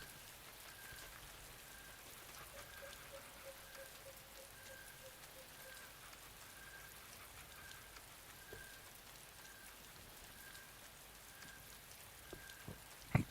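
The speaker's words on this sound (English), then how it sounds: "it's raining in the forest" Rain falling in a forest in the video game Anarchy Online, a soft, even patter of drops with a faint steady tone and a brief louder tap near the end, no voices.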